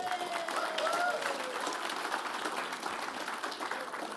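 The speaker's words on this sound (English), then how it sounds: "please give yourselves a round of applause" Conference audience applauding during a keynote in Brisbane, Australia: steady, fairly distant clapping from a large hall that holds evenly for about four seconds, with faint voices mixed in.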